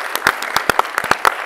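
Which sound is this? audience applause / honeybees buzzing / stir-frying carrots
audience applause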